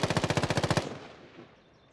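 Rapid automatic gunfire from a Warzone video game match, a burst of about a dozen evenly spaced, loud shots lasting under a second, then a fading echo and quiet.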